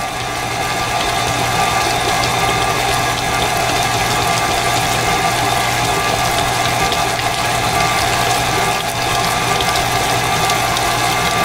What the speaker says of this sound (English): we're just going to turn it on low, and we're going to let the mixer do all the work